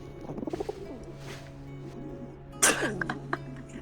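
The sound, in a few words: swamp heron creature call made from pigeon sounds, Carnivores video game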